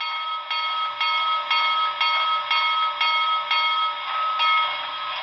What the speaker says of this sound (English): let's go ahead and listen to the bell